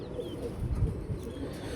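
Pigeons of the Mian Nazir Sahib strain coo softly in a low, murmuring throb, close by, with a steady bed of faint background noise.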